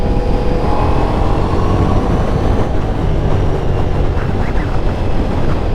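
A Ducati Diavel V4 motorcycle's V4 engine runs steadily while riding, a loud continuous drone mixed with rushing wind, with no voices.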